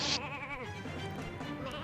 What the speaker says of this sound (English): I'm not gonna kill the sheep.